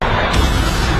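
A loud, dense anime explosion effect roars for about a second as a full-range blast with a sharp onset and sustained rumble, heard alone without voices.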